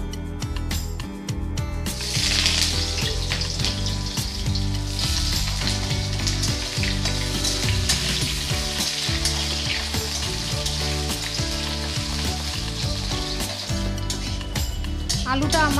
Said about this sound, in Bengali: এবার আমি কেটে ধুয়ে রাখা আলুগুলো দিয়ে ভালো করে ভেজে নেব